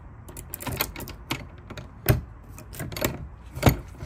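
A cheap padlock is handled and snapped shut, giving a few sharp mechanical clicks and taps spread over several seconds, close and fairly quiet with no talking.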